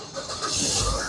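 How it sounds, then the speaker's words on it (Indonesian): A 2013 Mazda Biante 2.0 automatic starting from its push-button start, a brief rush of engine noise that swells and grows louder toward the end. "Sekarang kita coba nyalakan mobil."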